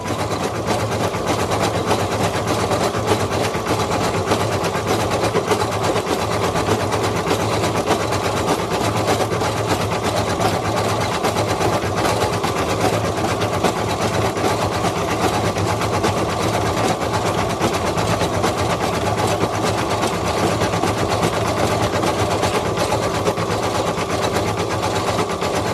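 An embroidery machine stitches designs into felt for masks, running steadily and continuously at close range with an even mechanical whir and no pauses or talk.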